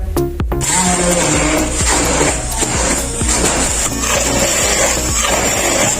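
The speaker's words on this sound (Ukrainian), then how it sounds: "А тепер перебиваємо блендером." A blender whirs steadily and loudly for several seconds, pureeing cooked pumpkin with grated ginger for soup, its high-pitched motor whine mixed with rough churning and rattling of the contents.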